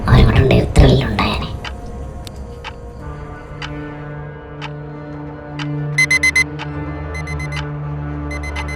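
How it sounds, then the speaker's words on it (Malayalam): A timepiece alarm clock rings indoors in short repeated bursts of bright electronic beeping, following a loud knock or thud at the start, with a steady low hum underneath and brief talk early on. "Alarm sound."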